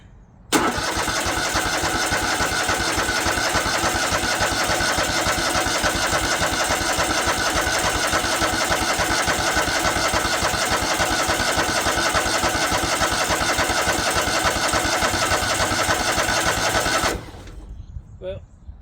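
A John Deere L130 lawn tractor engine cranks and catches, then runs steadily and loud for about sixteen seconds at constant throttle before cutting off abruptly near the end.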